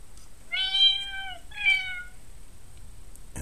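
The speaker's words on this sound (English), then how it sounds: "And it will play a meow sound." Two recorded cat meows play from a sensor built into an iMac G3 cat bed, clear, fairly close and alone against a quiet background.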